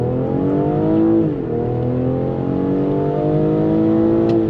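A 2020 BMW X3 M40i in sport mode accelerates hard, its engine note rising through a loud revving climb, briefly dipping at a gear change, then pulling up again from inside the cabin.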